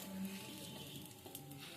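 A slice of bread fries in shallow oil with a faint, steady sizzle as a spatula presses it down against the pan, heard alone at low level.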